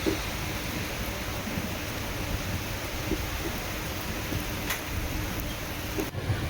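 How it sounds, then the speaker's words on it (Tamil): Steady rain falls around a train on the Kollam to Chennai Egmore Express, a dense, even hiss that holds at constant loudness throughout with a faint tick here and there. "மழை ஆரம்பிச்சிருச்சு"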